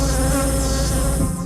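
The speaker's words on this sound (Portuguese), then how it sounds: "A noite vai chegando e as abelhas trabalham frenéticas em busca do pólen para fabricar o mel" A dense, steady hum of many bees buzzing as they gather pollen at dusk, loud and close, holding unbroken through the moment.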